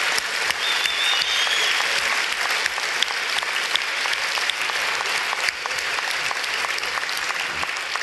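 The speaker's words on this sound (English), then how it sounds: "Please, another round of applause for Professor Dawkins and Dr. Tyson." Sustained audience applause after a science talk featuring Richard Dawkins and Neil deGrasse Tyson, a steady dense clatter of many hands clapping close and loud for about eight seconds, with no talking over it.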